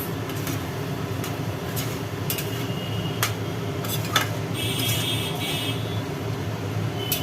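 Poppy seed paste and green chilli are stir-fried in a pan with a little water, making a dense continuous sizzle with scattered clinks and scrapes of a spatula against the pan.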